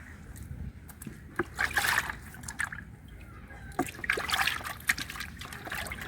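Water trickling and splashing as cow leg meat is washed by hand, faint and irregular with soft drips and sloshes, and no one talking.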